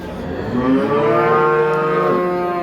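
A cow lows at a livestock market, one loud, close, drawn-out moo that swells and fades over a few seconds, with no talking over it.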